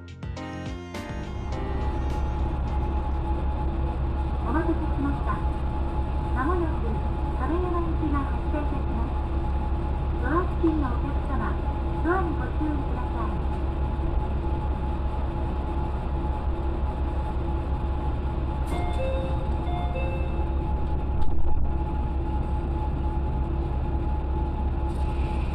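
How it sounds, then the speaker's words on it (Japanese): A KiHa 120 diesel railcar pulls away from Kamo station in Kyoto Prefecture, a steady loud engine drone and rumble with low hum continuing throughout, brief higher tones and a louder surge near the end. "キハ120型機動車は鴨駅を発車します。"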